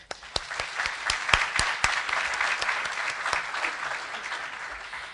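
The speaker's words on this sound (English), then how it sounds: "I just want to give a huge round of applause to all of our instructors and everyone here" An audience at an awards luncheon applauds its instructors: sharp individual claps start sparse and build into a lively round of clapping that holds at moderate volume before easing slightly.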